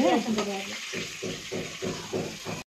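Hot ghee tempering poured over khichdi sizzles in a rhythmic, pulsing hiss after a brief voice at the start, then cuts off abruptly.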